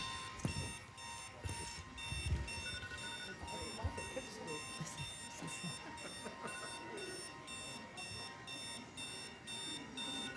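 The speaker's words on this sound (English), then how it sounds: "Sound the alarm. Time to wake up." Alarm clock ringing at a Wake Up Congress climate action rally, a loud, continuous rapid metallic bell ring sustained throughout, with crowd noise and scattered voices beneath it.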